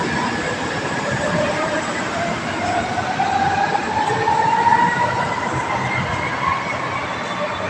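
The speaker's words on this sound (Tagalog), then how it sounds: "Dahil sa MRT Railroad." An MRT train passes along the elevated railroad, a continuous close rumble of rolling wagons with a rising and falling wheel whine through the middle, steady and loud throughout.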